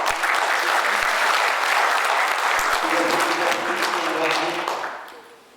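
Sustained, loud audience applause at the IKAPPI national leadership meeting honouring representatives of traditional Javanese markets, a dense, even roar of many hands clapping that holds steady for about five seconds before fading away.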